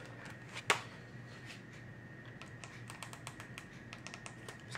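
Keystrokes on a computer keyboard hooked up to a Nintendo Wii, with one loud clack near the start and then a quick, light run of tapping over a steady low hum.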